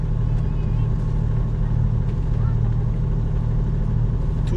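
A sailboat's inboard engine idles steadily after being restarted in a channel, a continuous low rumbling drone close by, with a voice speaking over it.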